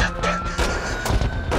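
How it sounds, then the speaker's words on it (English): AK-47 rifle firing a burst of rapid shots, loud booming reports close together with echo over a busy mixed background. "AK-47."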